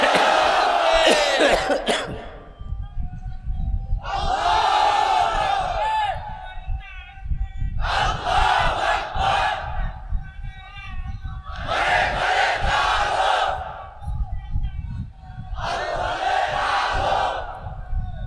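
At a Bangla religious sermon, a large crowd shouts takbir in unison, five loud chanted bursts separated by brief pauses, with a lone preacher's voice leading between them.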